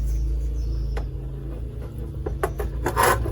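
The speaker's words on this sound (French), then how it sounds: "C'est un chiffon donc microfibre, donc ça gratte un petit peu, on va dire. Hop. On va bien essuyer." A microfibre cloth rubs and wipes over a part of a Yamaha 125 YBR motorcycle under restoration, giving soft raspy strokes with a louder scrubbing burst near the end, close by and steady.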